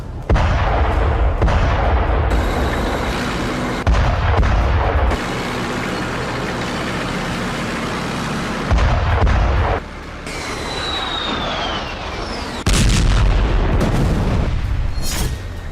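Heavy artillery fire in a tank battle: loud, continuous booming and rumbling, with repeated deep blasts and a dense roar through the whole stretch and no talk.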